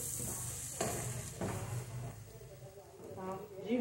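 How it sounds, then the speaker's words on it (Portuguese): Bean farofa with sausage and pork crackling is stirred in a pan, with scraping sweeps along the bottom over a soft sizzle while someone talks. "Pra mexer direito aqui no fundo."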